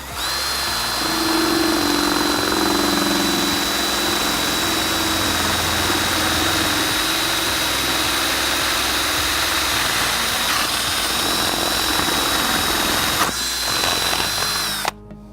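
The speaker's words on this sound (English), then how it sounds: "get your 3/4 inch spade bit or hole saw and get the hole bigger" Power drill with a 3/4 inch spade bit or hole saw enlarging a hole in boat fiberglass for an outrigger line tensioner bolt, a loud, steady whirring grind held for many seconds, up close, with no talk.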